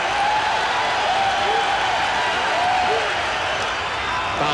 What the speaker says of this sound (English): Crowd up again.